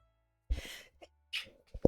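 A Sims 4 character lets out a short cartoonish sneeze, a sharp breathy burst followed by a couple of small vocal gasps and sighs, close and clear against silence.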